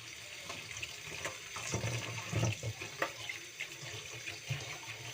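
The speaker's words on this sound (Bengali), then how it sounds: "পালংটাকে ভালো করে ধুয়ে নেব" Fresh spinach is rinsed under a running kitchen tap, giving a steady, moderately quiet splashing stream broken by irregular soft sloshes as the leaves are handled.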